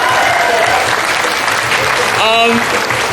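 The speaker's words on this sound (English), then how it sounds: "Quick round of applause for them, please." Steady crowd applause at a trans youth rally, loud and sustained across the whole stretch, with voices and a brief shout rising through it partway along.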